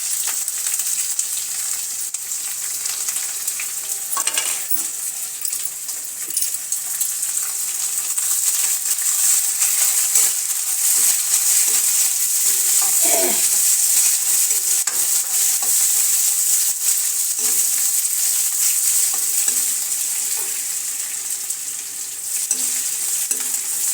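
Garlic, onion and chilies frying in a pan for a masala base, giving a steady, loud, continuous sizzle with occasional stirring scrapes and no talking.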